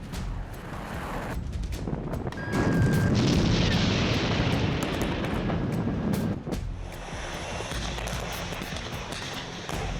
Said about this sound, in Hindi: मिसाइलें बरसी हैं, तोपें गरजी है